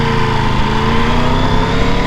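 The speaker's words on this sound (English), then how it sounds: "The engine sound is a little bit disappointing. It's got the triple in here" A Triumph Tiger 1200 with its T-plane triple engine running, a loud, steady mechanical drone with an even throbbing pulse and no change in pace, heard close with no voices.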